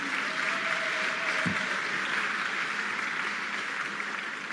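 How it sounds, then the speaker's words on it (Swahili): An audience claps in a sustained, even burst of applause at a journalism awards ceremony, with the applause filling the space alone. "tuwapigie makofi mengi sana"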